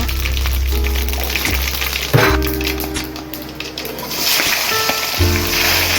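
Mustard seeds and cumin crackle in three spoons of hot oil in a pan on a gas stove, a steady sizzle with sharp popping bursts and a low burner hum, close and loud.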